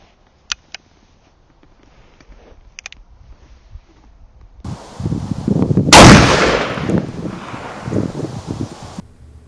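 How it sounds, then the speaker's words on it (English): A .500 Bushwhacker rifle firing a 400-grain copper solid bullet into ballistic gel lets off one loud, booming gunshot outdoors, preceded by faint clicks and rustling and trailed by a rolling echo and wind noise. "500 Bushwhacker, 400 grain copper solid."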